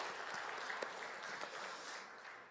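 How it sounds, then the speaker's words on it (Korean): A church congregation applauds the choir during a worship service, giving soft, even, steady applause heard from a distance that fades slightly at the end, with no voices over it. "박수 부탁드립니다."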